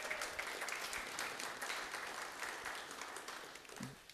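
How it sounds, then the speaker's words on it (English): A church congregation applauds for a couple renewing their wedding vows. The steady clapping is faint and distant and carries on for several seconds with no voices over it. "You can applaud that. That's worth applauding for sure, guys."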